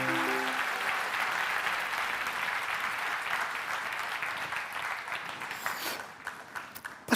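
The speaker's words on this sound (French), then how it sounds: "Donnez une main d'applaudissement pour nos serviteurs ici" An audience at a French-language church service led by a pastor claps steadily and densely for several seconds, with the applause thinning and tapering off toward the end.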